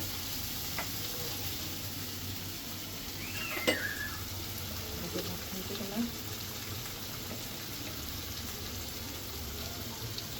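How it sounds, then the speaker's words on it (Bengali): Hilsa fish frying in a spice mixture gives a steady low sizzle throughout, with a few faint utensil clinks and stirring scrapes near the middle. "তো মাছগুলো আমি এই যে এই মশলার ভিতরে উঠে গুছিয়ে একটু ভাজা ভাজা করে নেব"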